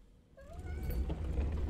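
A cat meows inside The Baby In Yellow video game, one rising, drawn-out call near the start followed by fainter cries over a low, steady game ambience with rumble.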